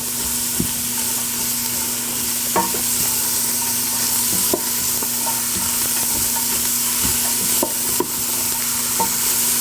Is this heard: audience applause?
no